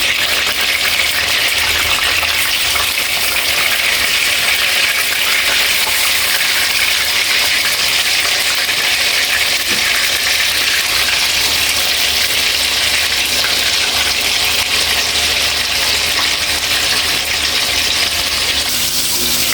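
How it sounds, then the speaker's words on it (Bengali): Fish for a Silon fish curry frying in hot oil in a wok, giving a loud, steady, close sizzle and crackle that holds unbroken throughout with no talking. "এবার কড়াইতে তেল দিয়ে একটু গরম করে মাছটা ছেড়ে দেবো।"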